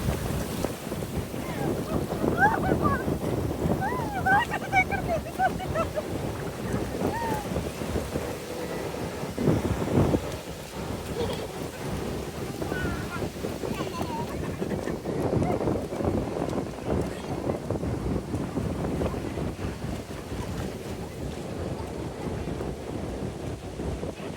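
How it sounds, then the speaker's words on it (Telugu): Sea waves break on a beach, a rumbling, surging wash that swells and recedes, with heavy wind buffeting the microphone and faint voices in the background. "ఒక్కసారి అలల సౌండ్ వినండి ఎంత బాగా అనిపిస్తుందో"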